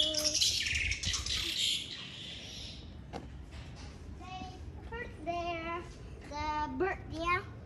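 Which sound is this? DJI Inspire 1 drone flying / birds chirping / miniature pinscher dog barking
birds chirping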